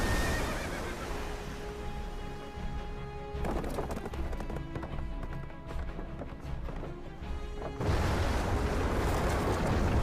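A horse whinnies loudly over rapid hooves and rushing noise, with bursts of heavy roaring sound; no talking.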